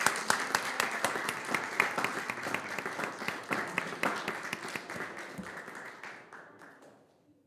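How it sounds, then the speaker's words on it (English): Round of applause from the audience at a board meeting, crisp overlapping claps with a few sharp standout hits, gradually thinning and dying away toward the end. "Let's give this group another round of applause."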